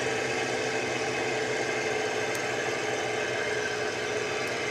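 A Spitfire's piston engine in the flight game Cliffs of Dover, propeller pulled back to about 2800 RPM, drones as a steady, loud, unbroken roar throughout with no voices over it.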